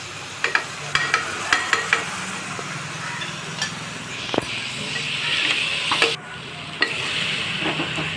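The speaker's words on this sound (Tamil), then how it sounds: "லாஸ்ட்டாக சிக்கனை போட்டு வதக்கி வச்சிடலாம்." Chicken is sautéed in a pan with a continuous close sizzle, punctuated by a quick run of clicking spatula strokes early on and a few later scrapes.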